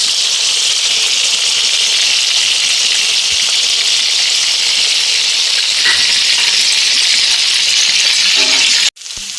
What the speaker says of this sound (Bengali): আদা পেঁয়াজ ভাজা হয়ে গেছে